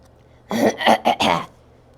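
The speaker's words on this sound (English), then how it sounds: "I should not be clearing my throat." A short burst of throat clearing, three or four rough guttural pulses close to the mic, surrounded by silence.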